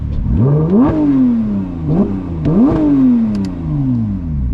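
Loud, close Porsche GT3 engine revs: the pitch spikes sharply three times and falls back between bursts, with no one speaking.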